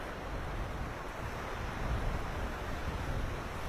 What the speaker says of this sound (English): the waves are gorgeous